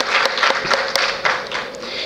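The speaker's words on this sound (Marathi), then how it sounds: "सर पुन्हा एकदा 2000 टाळ्या आपल्यासाठी." A lecture-series audience applauds the speaker, a quick mix of individual claps over a dense clapping wash, moderately loud and steady across the short stretch.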